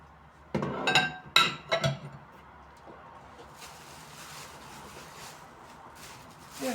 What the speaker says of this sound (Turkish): Böyle salata kasesi aldım. iki tane.